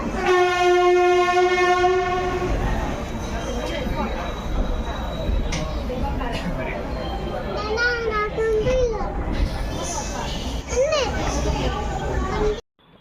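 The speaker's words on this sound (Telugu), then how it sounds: "మా ట్రైన్ బయలుదేరింది" A train horn blares loudly at the start, then the rumble and clatter of a departing passenger train rolls on, heard from aboard, with voices and children nearby.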